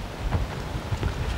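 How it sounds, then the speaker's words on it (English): Wind on an open outdoor field, a rough, blustery rumble buffeting the microphone steadily with small gusts throughout the short stretch. "And it's pretty windy today"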